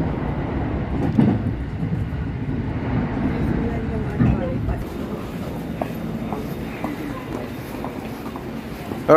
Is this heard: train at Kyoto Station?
yes